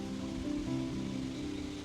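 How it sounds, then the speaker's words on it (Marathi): Rain falls steadily outside a hotel balcony in Goa, an even, moderate patter with a tonal hum running alongside it. "मस्त असा पाऊस पण पडतो आहे आणि सुंदर वाटतंय"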